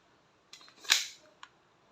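A WE 2011 Hi-Capa T-Rex airsoft pistol fires a single semi-automatic shot: one sharp, loud crack with softer mechanical clicks just before and after it, close by in an otherwise quiet room.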